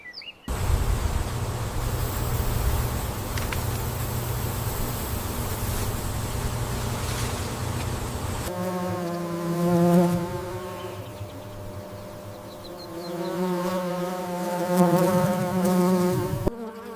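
Bees buzz continuously at close range around yellow watermelon blossoms, their hum rising and falling as they move about, over a soft outdoor hiss.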